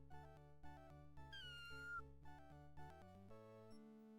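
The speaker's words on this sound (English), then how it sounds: "the next animal we must rescue for this story is the cat" A single drawn-out cat meow in a Mixed Up Fairy Tales video game, set against looping game music and faint overall, lasting under a second in the middle of the melody.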